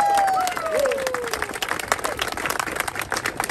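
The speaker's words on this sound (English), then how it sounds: "Big round of applause for some of the athletes here." Applause for athletes at a Special Olympics polar plunge fundraiser in Cobourg, a light scattered clapping from a small outdoor crowd, with a brief whistle-like tone sliding down at the start.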